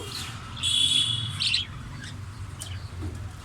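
Birds call from a balcony garden with potted plants in December, giving a quick run of sharp, high tweets near the start, then fading to faint scattered chirps over a low ambient rumble.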